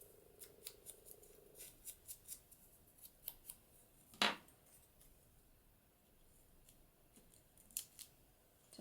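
Scissors cut paper in a quiet room for a Christmas craft project, making a series of soft, crisp snips in an uneven rhythm with one louder snip partway through, close by and with no talking.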